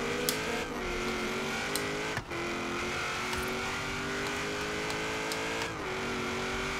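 Race car in a driving game revving hard and climbing through the gears, a loud steady engine drone with brief dips at each shift, heard alone.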